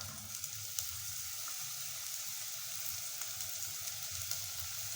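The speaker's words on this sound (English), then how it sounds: "My oil has been heating up, and I'm just gonna add in my onions right here." Onions hit hot oil in a pot for a Kenyan omena stew and sizzle steadily, a faint, even hiss that continues throughout with no talking.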